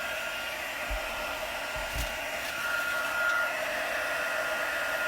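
Heat tool or dryer blowing on Distress Oxide ink, a loud steady whooshing drone held continuously at close range with a few faint low bumps of handling.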